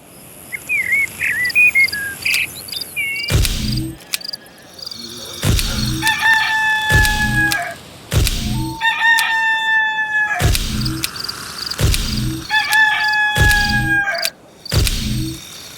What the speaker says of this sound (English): Roosters always crow when the sun comes up